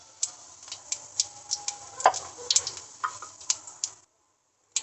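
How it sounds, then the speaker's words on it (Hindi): Cumin seeds crackle and pop in hot oil, giving a series of sharp ticks over a faint sizzle that stops abruptly near the end. "अब इसमें हम जीरा डालेंगे"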